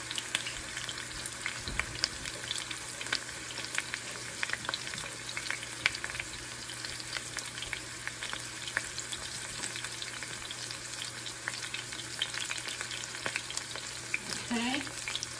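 Turkey wings brown in a frying pan with a constant, close sizzle and crackle of hot oil, steady throughout with a few faint stirring scrapes.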